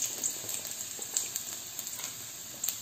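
Garlic cloves and shallots frying in gingelly oil for a turkey berry vatha kulambu, giving a faint, steady sizzle and hiss with small crackling pops throughout.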